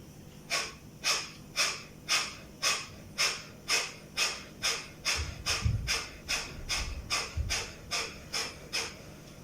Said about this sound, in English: Here you have to inhale once and then exhale completely.